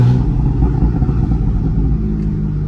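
A car engine rumbles loudly and steadily up close, with rough crackling and popping from the exhaust running through the whole stretch.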